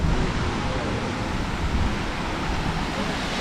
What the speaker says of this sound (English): Ah yes, the sound of water.